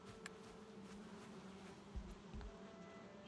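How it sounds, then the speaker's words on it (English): Bees buzz continuously around a beehive nest on a rock tower in the game Valheim, a steady low hum with faint ambient game sounds and a couple of brief low thumps, no speech. "bee's nest up there. A beehive."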